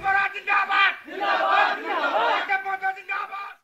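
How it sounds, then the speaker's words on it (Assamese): Party supporters outside an AGP office in Mankachar cheer and shout together in celebration, a loud, close crowd of overlapping raised voices swelling in waves. "মানকাছৰৰ অগপ কাৰ্যালয়ৰ সন্মুখত পতাকা ফুটাই অগপ সমৰ্থকে প্ৰকাশ কৰে আনন্দ উল্লাস"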